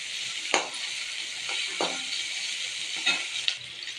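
Shallots and green chilies sautéing in oil in a pan for Kerala tomato mor kuzhambu, a continuous close sizzle broken by a few sharp stirring scrapes and spatters.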